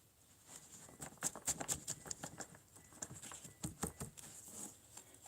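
Cards shuffled during a live tarot-style reading, a quiet series of quick riffling snaps and flicks in irregular bursts, close and faint with no talking over them.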